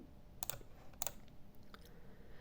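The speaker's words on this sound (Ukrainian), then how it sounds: "В рядок пошуку ми пишемо Scratch Online" Keys tapped on a computer keyboard while typing into a browser search bar, two short clustered bursts of clicks and a few lighter taps, quiet and close.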